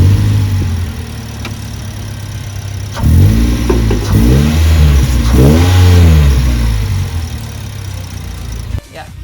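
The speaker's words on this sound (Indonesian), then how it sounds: "Sekarang kita akan nyalakan mobil ini, injak pedal rem, dan tekan tombol start stop engine button." Toyota Yaris 1.5 TRD Sportivo CVT (2021) starting by push button: the starter cranks and the engine catches at about three seconds, revs up in a few loud surges, then settles toward idle, with a low idle hum beforehand.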